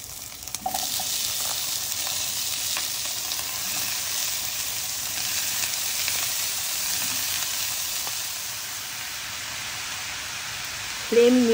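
Watermelon rind dropped into frying spice paste, with a short burst of noise at the start and then steady sizzling and crackling that continues evenly throughout, no one talking.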